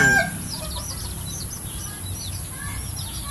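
A Peruvian gamefowl crossbreed chicken clucks and calls in a quick series of short, fairly close vocalizations over a low background rumble, with no talking.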